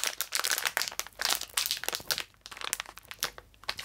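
Crinkly plastic wrapping of a Star Wars Dok Ondar Mystery Treasures blind box being crumpled and torn at, a close, busy run of crackling and rustling bursts with no talking.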